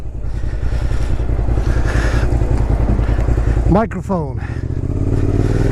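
A Suzuki SV650S motorcycle runs steadily on the road, its engine droning close and loud with a quick rise in revs partway through, while a rider talks over it.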